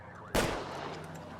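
One sharp gunshot from the game LA Noire cracks out close and loud, then rings off in a long echoing tail.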